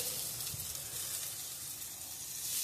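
Bacon sizzling on a hot grill beside stuffed burgers, a steady close hiss and crackle with no talking over it.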